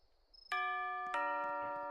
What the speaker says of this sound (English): the doorbell actually works as you step inside of this thing as well